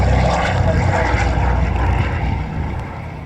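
A propeller aircraft lands on the tarmac at Leicester Airshow with a loud, close propeller and engine drone. The sound eases off gradually over a few seconds, and no words are spoken.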